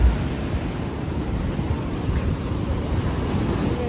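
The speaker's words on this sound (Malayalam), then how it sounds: "കടൽ ചുറ്റും കടല്, നടുക്ക് അമ്പലം" Sea waves wash around Tanah Lot temple in Bali, a constant low surging hiss mixed with wind buffeting the microphone, with no voices.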